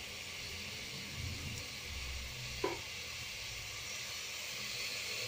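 Onions and spices frying in oil in a pan for egg pulusu, a steady soft sizzle and hiss throughout, fairly quiet, with a single brief clink partway through and no talking.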